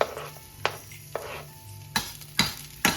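Garlic hitting hot olive oil in a pan for buttered eggplant, a soft sizzle with several sharp clacks of a utensil against the pan at irregular intervals, with no voices.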